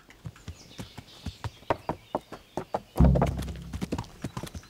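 Steady rhythmic horse hooves clip-clop at a walking pace in the video game Kingdom Come: Deliverance, close and distinct, with a heavier thud midway and a faint whinny-like tone.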